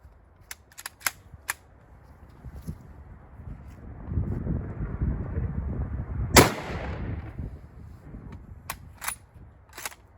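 A few sharp, distant-sounding shots from a Russian rifle similar to an AK, with one louder, closer crack in the middle, over wind rumble and outdoor ambience.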